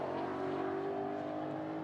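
An Audi GT4 race car at Jeddah, its engine a sustained loud droning whine with a steady pitch, heard close and without voices for a couple of seconds.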